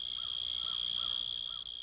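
A cricket sings from its burrow, a piercing, steady high trill that rings continuously and loud, with faint softer chirps pulsing in a regular rhythm beneath it and no voices.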